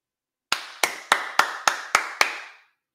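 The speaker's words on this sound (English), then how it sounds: "Round of applause, ladies and gentlemen." Seven crisp, evenly spaced hand claps ring out in a slow, deliberate rhythm. Each clap is sharp and close, with a short ringing tail, and there is silence before and after.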